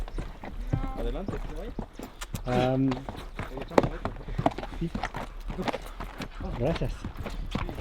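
A tired horse walking a mountain trail at a monarch butterfly sanctuary in Mexico, with steady clip-clopping hoof steps close by under near-constant talking and some breathing and rustle.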